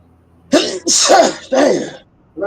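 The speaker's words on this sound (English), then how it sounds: "Sneeze attacks." Two or three sneezes in quick succession from a nearby person, sharp loud bursts with breathy intakes between them, ending with a short sniffle.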